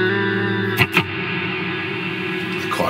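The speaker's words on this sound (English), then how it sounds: "Quite a lot of reverb there." An instrument played through an Old Blood Noise Endeavours Procession reverb pedal set to a big hall reverb: sustained tones with a long washing tail, plus a couple of sharp attacks near the start, with no talking.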